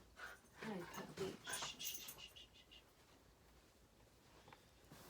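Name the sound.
dog panting and whimpering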